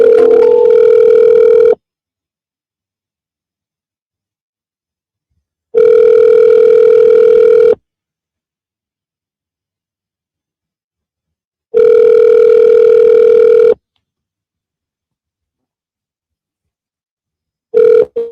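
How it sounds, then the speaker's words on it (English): A phone call's voicemail tone sounds as steady, loud electronic beeps, each lasting about two seconds, repeating at regular intervals with complete silence between them. "At the tone, please record your message."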